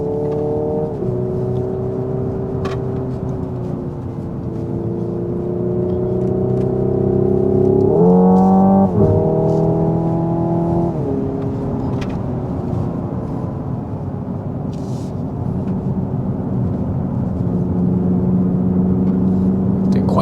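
Hyundai Ioniq 5 N electric car lapping Sydney Motorsport Park: a continuous whirring drive sound and synthesized engine tone that rises and falls with acceleration and a burst of higher pitch mid-way, steady and close throughout.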